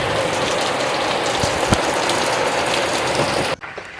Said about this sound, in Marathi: पावसाने अचानक हजेरी लावली